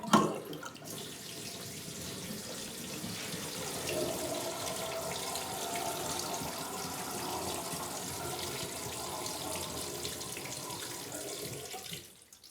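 Water from a tap runs steadily and close into a newly fitted bathroom sink, draining through its overflow in a renovated Swedish wet room, a continuous hiss for about twelve seconds before cutting off.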